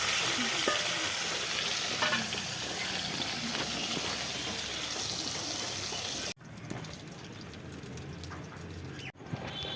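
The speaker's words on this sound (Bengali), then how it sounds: "মাছটা ভাজা হয়ে গেছে" Fish fries in hot oil in a home kitchen, a dense close sizzle with occasional stirring, interrupted by two abrupt cuts.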